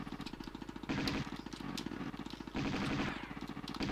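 A snowmobile in Tomb Raider II runs with a rapid, rattling engine chug that surges louder twice in short bursts, quiet and steady underneath without any voices.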